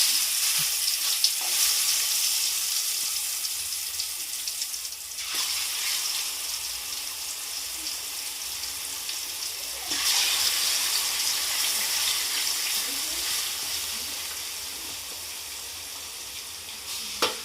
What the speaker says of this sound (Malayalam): ഈ പപ്പടം വറുത്ത എണ്ണയ്ക്കകത്ത് തന്നെ നമ്മൾ ചിക്കനും വറുത്തെടുക്കാനായിട്ട് പോവുകയാണ്